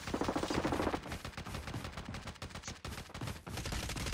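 Gunfire in the battle royale video game Call of Duty Blackout, a burst of rapid shots up front followed by scattered cracks and sharp reports throughout.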